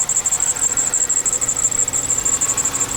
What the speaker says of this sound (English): Little belt squeal